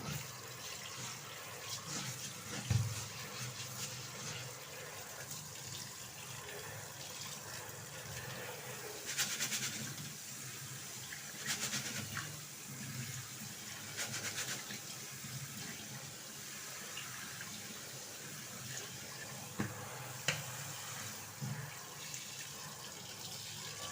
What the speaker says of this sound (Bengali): চালটা ধুয়ে নিই।